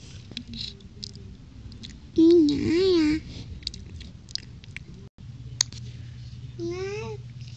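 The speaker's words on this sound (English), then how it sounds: "She's chewing on his chew toy" Soft, wet gnawing and squishing as a chew toy is chewed up close, quiet and uneven, with babbling, sing-song vocal sounds rising over it in short bursts.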